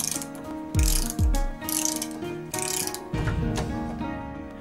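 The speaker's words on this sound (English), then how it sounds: "Start rotating the tool. The ratchet makes use simple, and the spring-loaded mechanism keeps pressure on the blade." Ratch-cut ratcheting tube cutter with a spring-loaded blade being turned around a tube, giving quick repeated ratchet clicks in uneven bursts, close and clear with no talking.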